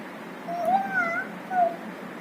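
A child imitates a cat, voicing two or three short, high wavering meows close by in a quiet room.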